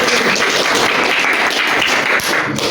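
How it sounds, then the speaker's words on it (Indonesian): A class of children applauds during a lesson on the proper way to perform prayer, with loud, close clapping that is busy and continuous for a few seconds. "Tepuk tangan untuk kita semua."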